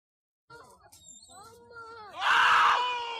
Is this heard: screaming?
yes